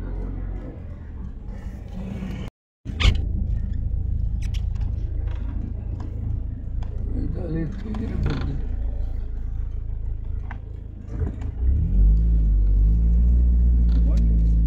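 A car rolls through a Ramada hotel parking lot to park, its engine rumbling steadily close by with clatter from the cabin and a brief cut early on, as people talk over it.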